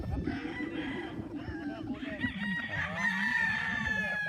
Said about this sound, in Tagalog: Maingat lang ha, huwag ibabagsak ang manok.